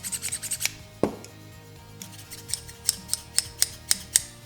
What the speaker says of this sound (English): they added composite sleeves where the pins run through for a much smoother opening and closing action